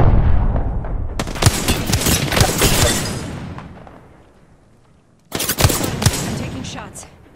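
Gunfire in the Apex Legends video game: loud sustained bursts of rapid automatic shots, a pause as the noise fades, then another close burst.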